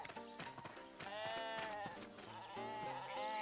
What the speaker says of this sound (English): Hate shearing sheep.